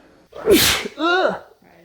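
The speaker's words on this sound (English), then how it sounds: "I'm gonna sneeze again" A man lets out a loud, close sneeze, with a sharp explosive burst followed by a voiced trailing exhale, alone in an otherwise quiet room.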